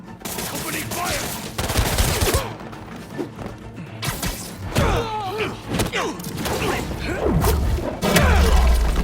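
Enemy gunfire in the Marvel's Spider-Man 2 video game: rapid bursts and volleys of shots mixed with thuds and crashes during busy combat, loud and continuous across the fight.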